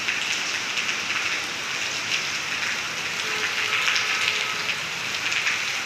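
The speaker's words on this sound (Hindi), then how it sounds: "आज जाके अच्छी बारिश हो रही है" A downpour of heavy rain keeps up a thick, even wash of drops pattering on surfaces, close and loud throughout, with nobody talking.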